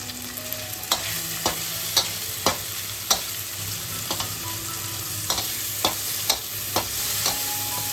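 Tomato spice masala fries and sizzles steadily in a pan while a spoon scrapes and stirs it with sharp, irregular knocks against the metal, close and clear with no talking.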